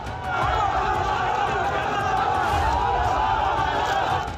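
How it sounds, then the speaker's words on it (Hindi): A mob of farmer protesters surrounds a BJP MLA in Chandigarh, their shouting blending into a dense, steady roar of crowd noise with overlapping voices and jostling throughout. "चारों तरफ से भीड़ का हमला"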